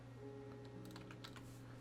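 Rapid keystrokes on a computer keyboard, a quick cluster of light clicks in the second half over a steady low hum, faint and close.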